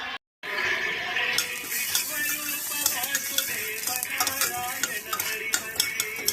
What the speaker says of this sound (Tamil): தேங்காய் எண்ணெய் உளுந்து போட்டிருக்கோம்